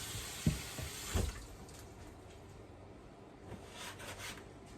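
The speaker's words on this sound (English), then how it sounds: "Set it in my sink," Tap water runs into a kitchen sink while a dish is rinsed, a couple of clunks of the dish up front, then a steady, soft stream that fades low before swelling slightly at the end.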